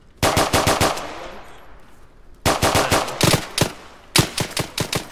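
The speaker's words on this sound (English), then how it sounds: "I just pumped the whole mag into them" Machine gun fire from the military shooter Arma: three loud, close bursts of rapid automatic shots, each a tight rattling string separated by brief pauses, with no voices.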